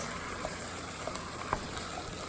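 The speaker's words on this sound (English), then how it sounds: "mix it nicely, but then it's nice and hot and sizzling" Beans sizzle steadily in a hot pot for pasta e fagioli, a constant soft hiss with occasional faint pops and crackles, close and even in level.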